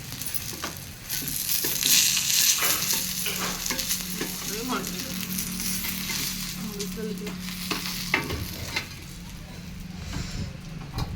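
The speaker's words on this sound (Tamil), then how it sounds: "இப்போ இன்னும் கொஞ்சம் இருக்கிற மீனையும் பார்த்திங்கன்னா அதே மாதிரி ஃப்ரை பண்ணி எடுத்துக்கலாம்" Fish frying in oil in a home kitchen, with a steady, moderate sizzle and scattered sharp pops and crackles running throughout, unbroken by talk.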